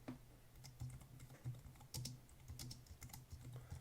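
Close, quiet typing on a computer keyboard while a rule name is entered, with a steady stream of light key clicks and no talking.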